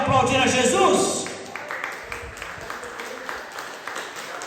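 A church congregation claps in scattered bursts, which thin out after a loud opening of talk or singing.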